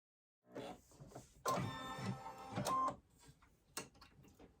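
An embroidery machine stitches fleece onto the back of a Baby Yoda hand sanitizer holder, giving a close, busy mechanical whirr and rattle that starts, surges in bursts and then eases off to lighter intermittent clicks.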